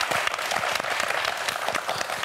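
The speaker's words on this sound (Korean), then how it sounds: "박수 한번 보내주세요." Lively studio audience applause on a Korean science quiz show, close and loud, with many distinct hand claps in a busy, unbroken patter for a couple of seconds.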